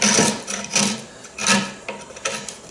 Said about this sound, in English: the only tool I can find in my shop here is a little beveled chisel. And just dig down in there.